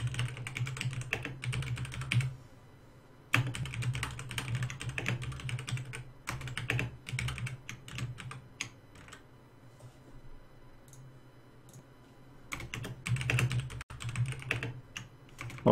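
Typing on a computer keyboard, close and fairly loud, with dense clacking bursts that pause around two to three seconds and near twelve seconds before resuming, over a low steady hum.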